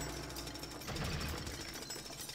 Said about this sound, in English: I'm surprised nobody's yelling at me for using a jackhammer inside.